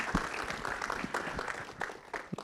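An audience applauding at a Hindi film trailer launch event: a brief, fairly faint patter of scattered claps, heard at a distance.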